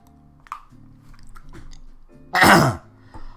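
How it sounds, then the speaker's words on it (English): A single harsh, throat-clearing burst stands out clearly, loud and close, over a low background hum with a few faint clicks before it. "I clear my throat"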